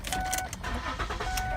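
A 2007 Ford Edge SEL with 153,000 miles cranking to start: a short, close churn of the starter blending into the engine catching, with a faint high whine over it, and no talking.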